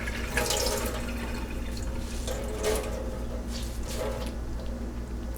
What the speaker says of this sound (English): Do not wring. Always squeeze. Just squeeze the water out.